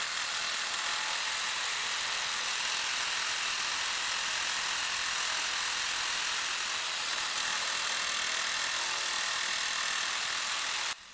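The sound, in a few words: cordless reciprocating saw cutting rebar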